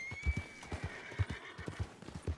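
Horse hooves clip-clop at a steady walking pace in Red Dead Redemption 2 online, a regular series of soft thuds up close with a faint tonal whine behind them and no talk.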